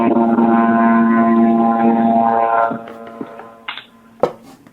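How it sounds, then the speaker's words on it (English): Loud, steady seaplane engine drone taking off from a lake, with a buzzing harmonic tone that fades after a few seconds, followed by scattered knocks and clatter. "A seaplane's taking off on the lake."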